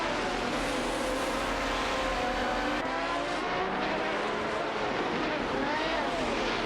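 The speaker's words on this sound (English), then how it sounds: "Milgauss 77 and Super Lacroix in a Koenigsegg CCGT are competing with Sidric and Dopay Slides in a Chrysler Viper GTSR for the 11th position" Video-game race cars, a Koenigsegg CCGT and a Chrysler Viper GTSR, roar continuously with rising and falling engine pitch as they battle for position, loud and steady throughout with no pause.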